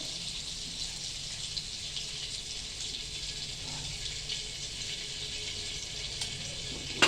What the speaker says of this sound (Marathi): थोडंसं आपल्याला हे बटर असं विरघळवून घ्यायचं आहे तेलामध्ये.